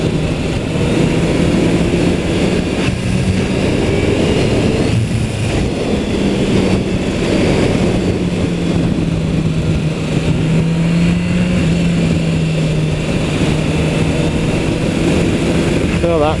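A Kawasaki H2 SX SE+ motorcycle with a boost gauge runs under light throttle, its engine a steady, close drone that shifts gently in pitch, with rushing wind and a voice talking over it.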